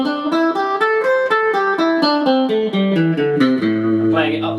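Electric guitar running a minor pentatonic scale up and then back down, about a dozen evenly picked notes with alternate picking, each note distinct and bright, finishing on a held low note, close and loud with no talking.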